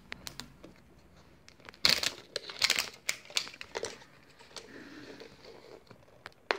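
Opening a surprise toy egg package from a coin-operated toy machine, with bursts of close crinkling and tearing plastic wrapper interspersed with small clicks and rustles, fairly quiet.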